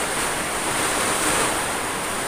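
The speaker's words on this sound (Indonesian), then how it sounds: "Ini hujannya kenceng juga." Heavy rain pouring down, a dense, steady hiss of noise throughout, loud and even with no pauses and no voices.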